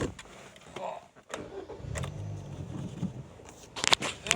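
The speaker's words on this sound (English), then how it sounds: "So I'm gonna start the car." A 2010 Kia Forte with a misfiring, stumbling engine is started: a few sharp clicks and clunks, then a low cranking and catching rumble, followed by more mechanical knocks, with no talking.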